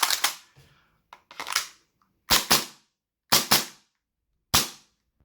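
Tokyo Marui full-size USP airsoft pistol being racked and dry-fired in a function test: a series of sharp, close metallic slide clacks, paired snaps repeated four or five times with short pauses, no talking.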